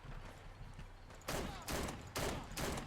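Beretta 1301 Tactical shotgun fired in Fallout 4, three loud, sharp blasts at roughly half-second intervals, each with a short ringing tail over a low background hum.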